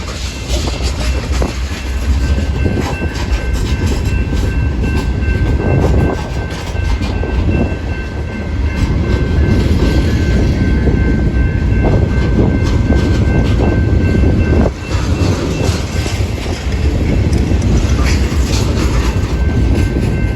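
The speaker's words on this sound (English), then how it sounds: "Oh, this is a short train right here." Short train rolling past on Macklind Avenue, a loud, steady rumble and clatter of rail cars heard close by for the whole stretch, with a faint high whine from the wheels running throughout.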